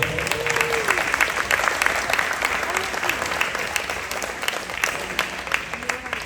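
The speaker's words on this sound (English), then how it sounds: "Let's give all of them a round of applause" Crowd applause at a high school ring ceremony, a steady broad roar of clapping from many people filling the whole stretch, with voices murmuring underneath.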